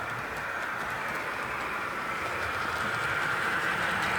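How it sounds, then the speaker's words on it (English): A model HST train fitted with a Legoman Biffo sound unit rolls past, a steady, even engine drone and rail rumble that builds slightly as it approaches, with no voices. "So the HST, which is just sort of coming by now, that's got Legoman Biffo sound in it."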